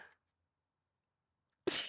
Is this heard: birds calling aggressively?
no